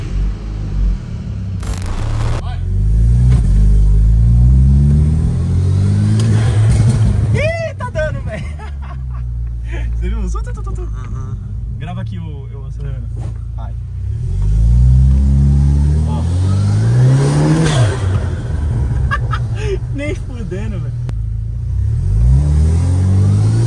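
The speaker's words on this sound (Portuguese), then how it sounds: "Vai ligar o Jetta e vamos ver se vai fazer o Flutter." A VW Jetta Stage 3 turbo engine is revved repeatedly in loud, rising and falling sweeps with deep rumbling, during a test for turbo flutter. People talk over the engine throughout.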